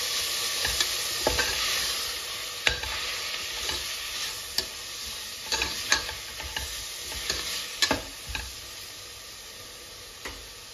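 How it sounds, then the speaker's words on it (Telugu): Paaya soup ingredients sizzle and fry steadily in a pan while a spoon stirs and scrapes, leaving scattered sharp clinks over the continuous hiss, close up with no voices. "చక్కగా వేయించుకోవాలి."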